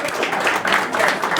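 Audience applause at a London DevOps meetup, a steady dense wash of clapping hands filling the room at moderate loudness for the whole moment, with no one speaking over it.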